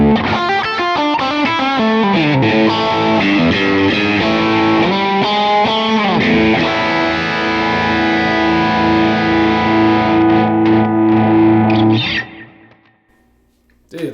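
High-gain electric guitar runs through a Kemper profile of a Brownie pedal at its upper gain settings, B and G2. Thick, loud distorted chords and riffs sustain for about twelve seconds, then cut off into a brief decaying tail.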